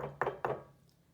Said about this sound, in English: Knock, knock. It was that door again.